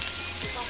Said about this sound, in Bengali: তো এই যে এখন পেঁয়াজ ভাজা হচ্ছে মটনের